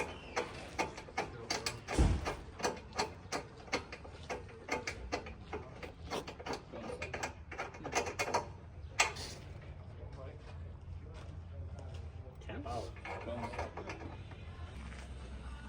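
Rapid ratchet clicks tightening a bolt while fuel lines are plumbed, a close train of sharp ticks in short bursts, then quieter handling and someone talking.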